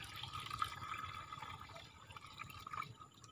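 Water pours steadily into a drum at a papaya farm, filling it for spraying. The rushing, splashing flow is continuous and fairly close, with no talking.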